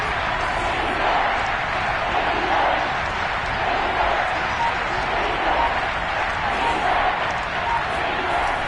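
Stadium crowd in the Madden 22 American football game, a steady, dense roar of cheering fans building toward a big third down, loud and continuous with no clear breaks.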